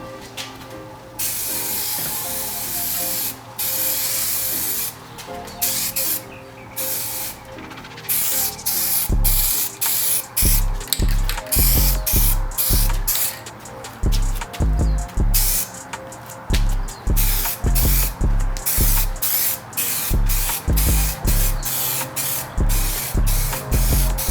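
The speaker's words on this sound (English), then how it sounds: "Now we are going to guide coat it." Rapid, loud spray bursts lay a guide coat on car bodywork during a custom restoration, a continuous hiss at first, then many short rhythmic passes in close succession.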